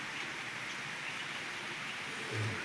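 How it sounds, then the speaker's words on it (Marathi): Steady rain falls outdoors near a cattle shed, a soft, even hiss of drops with no pauses, moderately faint and constant throughout. "आणि आता पाऊस चालू झाला आहे"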